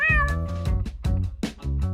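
A cat meows loudly and close, several insistent calls in quick succession, some drawn out and whiny, with no other sounds around.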